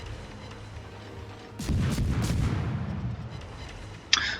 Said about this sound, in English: So the Miyoko is shooting at him, I think the King George is also shooting for him.